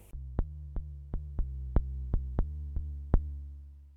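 A Korg Volca Keys synthesizer plays a simple programmed sine-wave riff, a steady low tone with nine crisp plucked note attacks at an even pace, loud and clear with no voices.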